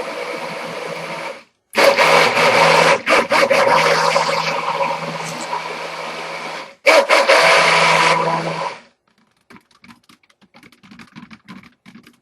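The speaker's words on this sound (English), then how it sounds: "the more I work with the stick blender" A stick blender whirs in bursts through cold process soap batter, loud and close, with short pauses between runs, then stops, leaving faint scraping and clatter.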